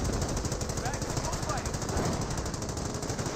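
Rapid, continuous machine-gun and sniper fire crackles through a Company of Heroes battle, dense and loud throughout, with a voice speaking underneath.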